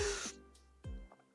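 A single short, breathy sneeze indoors, faint and close, followed by a brief sharp intake of breath.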